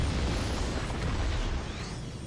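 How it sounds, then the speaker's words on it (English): An explosion goes off in the video game Morrowland, a loud, broad blast of noise that rumbles and fades slowly over a couple of seconds, with no speech. "That was disproportionately loud, that explosion."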